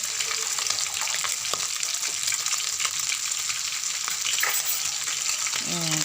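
Ginger and garlic sautéing for restaurant-style fried rice, a steady close sizzle with scraping stirs and a brief water-like pour near the end.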